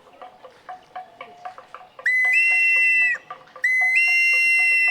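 Two long, loud, steady whistles with a sharp rising start, imitating an eagle's cry, following a stretch of quieter pulsing tones, at Chichen Itza, Yucatán.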